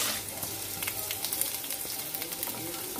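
Garlic, ginger and green chillies fry in a pan with a close, steady sizzle and light stirring scrapes, continuous throughout with no talk.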